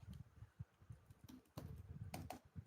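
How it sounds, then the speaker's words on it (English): Rapid clicking keystrokes on a Japanese computer keyboard, close and dry, in uneven bursts with brief pauses and a busier flurry toward the end. "So that's my Japanese keyboard."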